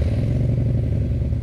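Keeway V250FI Geronimo cruiser motorcycle engine, just started, idling with a steady low, loud rumbling throb that fills the whole moment without pause.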